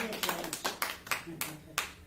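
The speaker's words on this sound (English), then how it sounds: "Let's give God a clap offering." Congregation clapping during a church service, a loose run of about seven separate hand-clap bursts spread over two seconds, fairly quiet and roomy, with faint voices underneath.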